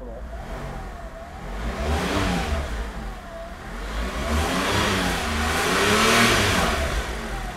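A Porsche 911 (996) GT3 RS engine, already warmed up, revs up twice, rising to a loud, rasping roar each time before settling back toward idle.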